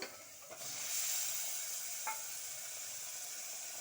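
Chicken dropped into a hot pan sets off a faint, steady sizzling hiss with a brief clatter of utensils.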